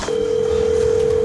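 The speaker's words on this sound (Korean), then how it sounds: "전화." A telephone rings on a Korean horror radio show, a steady electronic tone that holds loud and clear for the whole moment.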